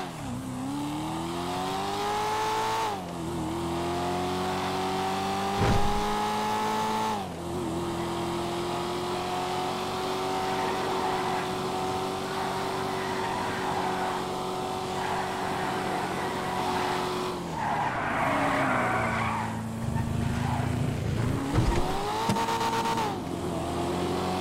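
A two-door Corvette on a test drive, its engine droning steadily and rising and falling through revs and gear changes, with brief tire squeals and skids, close and loud for the whole stretch.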